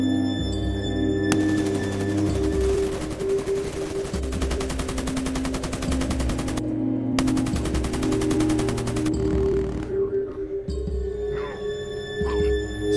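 Video game gunfire in a forest during a monster hunt, heard as two long stretches of rapid automatic fire over a constant low engine-like drone, with short sharp bursts in between and faint fire at the end.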